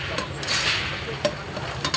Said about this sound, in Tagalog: Mag-stir fry tayo ng cabbage